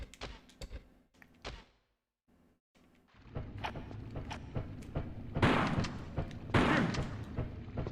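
Shotgun blasts in the video game Tomb Raider: The Last Revelation: several sharp, loud bangs spaced a second or two apart, after a brief silent gap, over busy, dense game noise.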